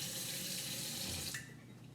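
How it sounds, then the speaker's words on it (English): Tap water runs steadily into a gallon glass jar during rinsing, a broad close splashing wash that cuts off sharply near the end, leaving a quieter dribbling tail. "I'm just rinsing my gallon glass jar with"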